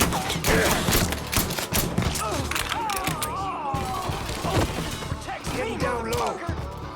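Gunfire in the Mafia III video game: rapid bursts of shots and sharp impacts crackle loudly over several seconds, mixed with shouting voices and game music.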